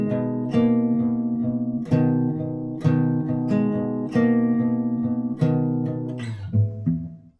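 An acoustic guitar plays part 3 of a song twice through, with rhythmic strummed and picked chords over low open-string bass notes, played close and clear with no talking.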